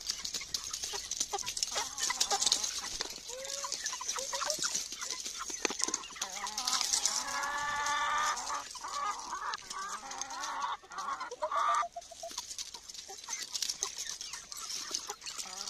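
Hens on a farm cluck and chatter in a busy, overlapping flock nearby, with short squawks rising above the steady murmur.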